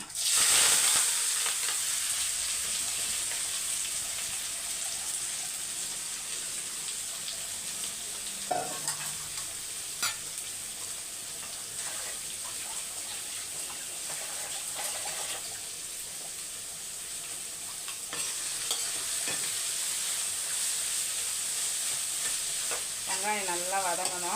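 Onions frying in a pan with two green chillies and curry leaves, a continuous loud sizzle under repeated spatula scrapes and stirring clatter, with scattered clinks through the stretch and no talk.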